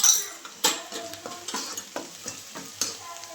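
Onion with a pinch of turmeric frying in a pan, sizzling softly under a run of sharp spoon-against-pan stirring scrapes and clicks.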